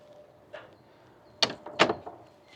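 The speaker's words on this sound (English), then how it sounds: "Oh, Alex just opened the door." A door opens at the start of a bicycle wine tour in Tuscany, with faint mechanical clicks and then two sharp latch and handle clacks close by over quiet room noise.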